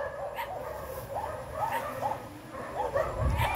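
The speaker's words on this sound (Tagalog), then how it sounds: "parang buong baryo na nagtatahulan ng mga aso" Many dogs bark across a Philippine village, a chorus of yips and barks overlapping in a steady, repeating rhythm, mid-distance and fairly loud over a constant background hum.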